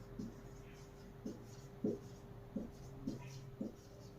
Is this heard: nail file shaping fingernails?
no